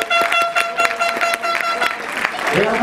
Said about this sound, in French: je crois qu'on peut l'applaudir notre ami